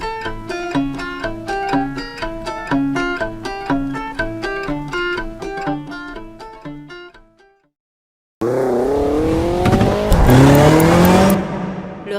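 An Audi rally car roars at close range, engine revving high and tires squealing in a loud, sustained burst that cuts in abruptly after a stretch of rhythmic music and a moment of silence.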